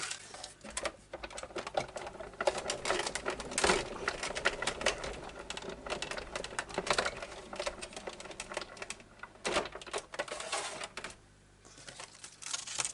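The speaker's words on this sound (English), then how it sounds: "I'm cutting the entire die there." A die-cutting machine presses a full die through a single layer of black card, a steady run of crunching, clicking mechanical pressure for several seconds, close and moderately loud with a brief quieter dip near the end.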